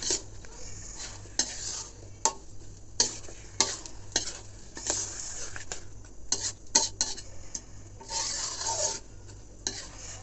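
Rice for khichuri being sautéed with chillies in oil in a pan, repeated brisk spatula scrapes and clatter over a low sizzle, close and fairly loud, with no talking.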